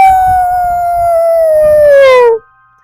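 A voice imitates a werewolf howl in a Halloween cartoon story: one long, loud, close wail that slides slowly downward for over two seconds and then cuts off abruptly.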